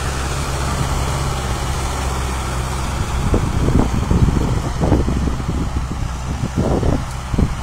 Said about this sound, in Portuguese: Eu vou deixar aqui o trator trabalhando